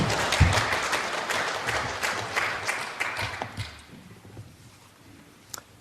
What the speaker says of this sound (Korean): 할렐루야 박수로 웰컴해 주시기 바랍니다.